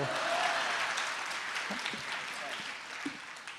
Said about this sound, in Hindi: अगली पंक्ति पर तालियां चाहता हूं